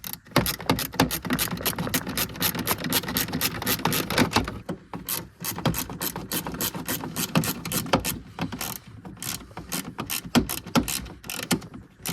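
A screw being driven in while a crash-damaged 2017 VW Scirocco R Line is rebuilt: a steady, close run of rapid mechanical ratcheting clicks that pauses briefly partway through, then resumes.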